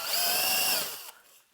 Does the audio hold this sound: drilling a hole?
yes